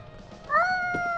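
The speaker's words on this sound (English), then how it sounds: "You can't pet the cat for hours." A single cat meow from a video game, rising then held, heard up close over faint background sound.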